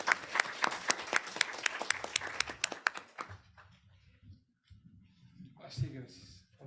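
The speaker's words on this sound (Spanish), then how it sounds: "Demos un fuerte aplauso, por favor." An audience at a public security conference claps in a short, lively round of applause that stops abruptly after about three seconds, followed by quiet room noise and a voice beginning to speak.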